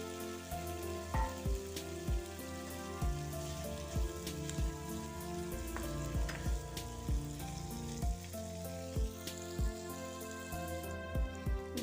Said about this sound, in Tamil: எண்ணெய் நல்லா சூடானே நம்ம பன்னீரை வந்து ஃப்ரை பண்ணிக்கலாங்க